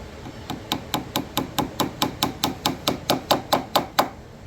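Hammer striking a nail into an antique wooden bed frame, about sixteen sharp evenly spaced blows in a steady rhythm, loud and close, the last few hits slightly heavier as the nail sinks.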